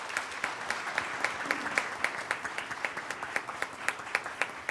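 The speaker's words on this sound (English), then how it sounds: "So let's give him a round of applause." Applause from the audience at a school board meeting, a steady, evenly spread clapping that holds for the whole stretch with regular sharp claps standing out against the crowd.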